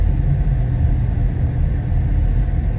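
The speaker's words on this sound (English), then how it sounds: "Looks like there's several people still doing some trucking, possibly some road widening operations or something along those lines." Heavy trucks rumble along a mountain road by the Kern River, where road-widening work may be underway after a snowstorm. The low, steady engine drone holds without a break throughout, with no voices.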